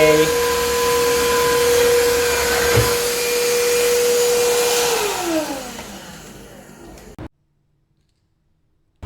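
A Tineco iFloor Breeze cordless wet-dry floor vacuum whirs steadily and loudly, then winds down and shuts off, leaving silence.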